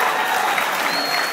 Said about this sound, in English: That's the collective applause of everyone